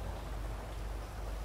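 Steady rain in GTA 5 hisses evenly throughout as a dense, continuous wash of drops, with no voices over it.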